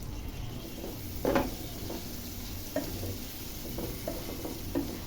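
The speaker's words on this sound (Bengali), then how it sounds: "পেঁয়াজগুলোকে লাল লাল করে ভেজে নিব।" Chopped onions fry in a pan with a soft, steady sizzle, broken by a few scattered stirring scrapes and taps, fairly quiet and close, with no speech.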